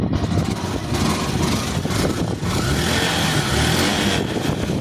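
A Yamaha YTX 125 motorcycle engine runs after a wiring repair and push start, a loud, steady, close-up mechanical chug with slight fluctuations in intensity.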